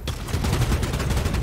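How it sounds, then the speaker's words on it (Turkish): Shotgun fire in the video game Bloodhunt: a dense, loud run of overlapping blasts that continues steadily through the short moment, with no voices heard. "Pompalı."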